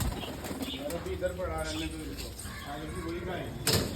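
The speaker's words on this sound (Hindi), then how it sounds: "देव भाई कबूतर खोल दूं मैं कि अंदर ही दाना डालना है?" Pigeons cooing softly in a continuous low murmur, with a brief flutter of wings near the end; no talking.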